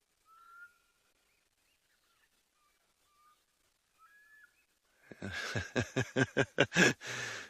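After quiet whistled notes, a black cuckoo starts calling close by in a rapid rhythmic series of sharp, repeated pulses.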